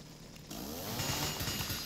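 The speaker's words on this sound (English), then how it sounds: "I have a chainsaw, I have a chainsaw." A chainsaw in the Resident Evil 7 video game, heard in VR, idles with a low buzz and then revs up louder and rougher halfway through, a close, sustained engine drone with no one talking.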